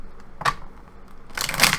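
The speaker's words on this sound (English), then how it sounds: "One more shuffle." Brief papery riffling of tarot cards being shuffled, a short burst followed by a louder, longer flurry near the end, close by.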